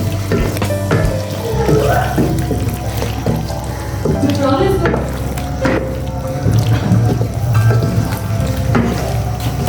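Taro (arbi) cooking with salt in a pan for a spicy bhujia, a continuous sizzling and frying hiss with occasional stirring clatter and scrapes, fairly loud and close.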